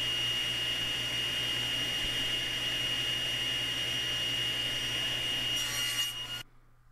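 Wooden frame parts for needlepoint panels being cut to length with 45-degree miter ends, a steady continuous sawing rasp over a low motor hum that stops abruptly near the end, with no talking.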